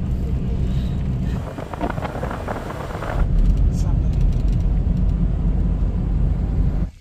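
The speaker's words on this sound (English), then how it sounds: "Me with my three and a half ton van that's front wheel drive with big knobbly all-terrain tyres" A three-and-a-half-ton front-wheel-drive van with knobbly all-terrain tyres drives through a flooded track, giving a loud continuous engine and splashing roar that swells halfway through, with wind buffeting the microphone.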